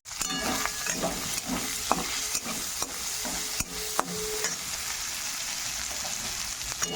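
Close, continuous sizzle of prawns frying in a hot pan, with regular scraping stirs of a spatula and sharp crackling spatters.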